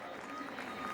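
Spectators roar and applaud at the finish of a World Rowing Cup women's pair A-final, with loud Australian supporters among them. The cheering is a dense, steady wash of crowd noise, with a voice talking over it.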